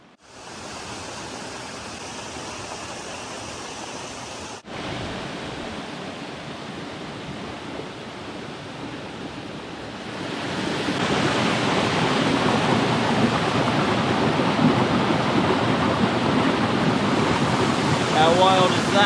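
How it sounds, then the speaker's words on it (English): Canyon Falls on James McArthur Creek in remote Australian bush, a tall waterfall of about 60 metres, roars as a broad steady rush that swells louder midway and holds as a dense, continuous wash. "That's the actual canyon falls, not the upper falls."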